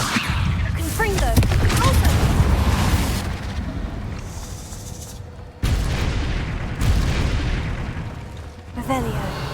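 Explosive bursts from the Confringo fire spell in Hogwarts Legacy, played on hard difficulty, booming repeatedly in dense, loud succession over game music and effects, with a short break midway before the blasts resume.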